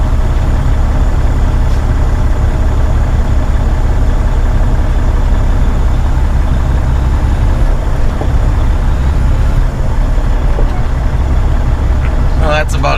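A truck engine rumbles loud and close, running steadily as it goes into drive and rolls forward, with a voice talking over it.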